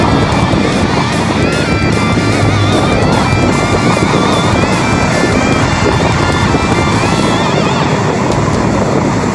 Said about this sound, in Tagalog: Pa yung hangin.